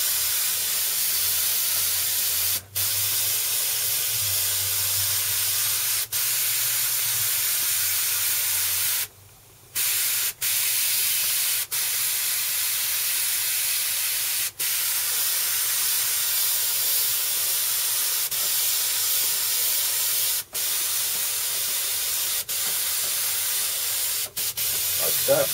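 An airbrush sprays paint onto a t-shirt, giving a continuous close hiss that runs almost unbroken, with brief cut-offs where the trigger is released, and a faint low murmur underneath.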